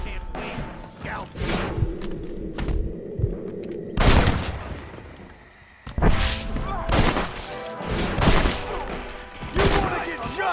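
Rapid gunfire in the Red Dead Redemption video game, a dense fusillade of overlapping shots and thuds with shouted voices in the mix, loud and nearly continuous apart from a brief lull.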